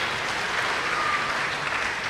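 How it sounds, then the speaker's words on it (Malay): Audience applause for a speaker at a Malay celebrity talk forum, a dense, even wash of many hands clapping at once that holds steady for the full two seconds without speech. "Kita bagi tepukan untuk Ustaz Rizal."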